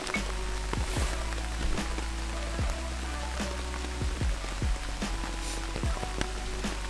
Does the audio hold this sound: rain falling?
yes